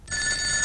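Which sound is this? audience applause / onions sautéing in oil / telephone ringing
telephone ringing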